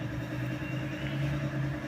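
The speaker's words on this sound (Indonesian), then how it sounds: "Selanjutnya kita untuk cek sound suara mesinnya." A Toyota Kijang 2L diesel engine runs at a steady idle with a low, even rumble, close by and continuous, no voices over it.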